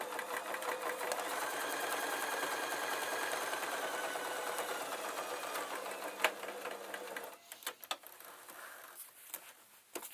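A sewing machine stitching along the long side of a quilted fat quarter box, a steady close motor whir with rapid needle ticking for about seven seconds, then stopping into a few small clicks and handling noises.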